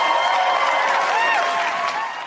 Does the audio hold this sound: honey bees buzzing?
no